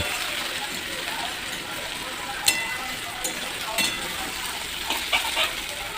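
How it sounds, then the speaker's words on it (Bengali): Onions fry in a pan with a soft, steady sizzle and crackle, dotted with a few light clinks of stirring near the middle and end. "পেঁয়াজ ভাজা চলছে"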